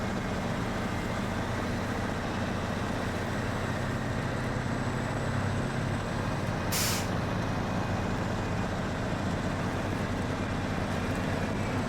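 A White Star truck in SnowRunner: a loud, constant heavy diesel engine drone fills the whole stretch, with one sharp hiss of air brakes partway through, no voices.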